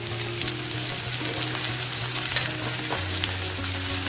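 Jaggery, chili powder and chopped raw mango are stirred in a hot pan. There is a steady close sizzle with repeated scraping strokes of a spoon, and no one speaks.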